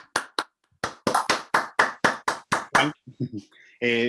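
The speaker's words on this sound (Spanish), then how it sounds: "Le damos un aplauso." Applause after a talk at an online mathematics session on analysis and differential equations: a short run of roughly a dozen distinct, loud claps in a steady rhythm, ending with a brief tone.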